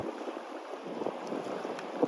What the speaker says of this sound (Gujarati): મારો શર્ટ જોવો તમે જોઈ શકતા છો એટલો પવન છે